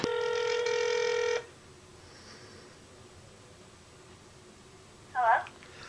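An outgoing telephone call rings once, a steady electronic ring tone of about one and a half seconds, followed by a quiet line with faint background hiss and a brief burst of sound near the end.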